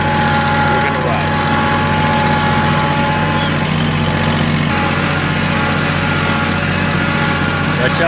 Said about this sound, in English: We're on my buddy's tractor,